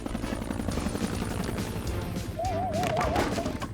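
A pilot's cartoon helicopter arrives with a loud, close, rapid rotor chop that holds steady throughout, joined near the end by a brief warbling tone.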